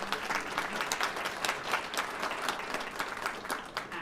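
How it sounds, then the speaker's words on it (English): A crowd applauds steadily, dense clapping filling the whole stretch at even loudness with no talking over it. "Please give a round of applause for our singers, Rebecca Russo, a student from Franklin High"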